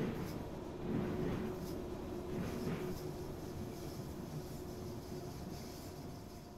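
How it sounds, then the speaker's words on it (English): Glasgow Subway train running its circular line in Train Simulator, a steady rumbling drone of wheels and motor with a faint hum, continuous and moderately loud, no talking. "all you're doing is driving a train round and round in circles"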